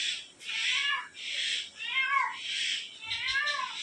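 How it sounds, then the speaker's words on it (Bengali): A domestic cat meows repeatedly in a clear, close series of drawn-out calls with short gaps between them, with no talk. "বিড়াল আছে। তা দেখছি বিড়ালই আছে।"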